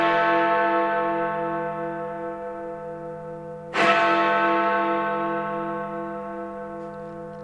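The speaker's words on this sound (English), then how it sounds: "when suddenly the sound of bells filled the air" Large bells ring out long, sustained tones that hang and slowly fade, and a second loud strike lands midway and blooms over the lingering hum. The chiming carries on its own, with no voices.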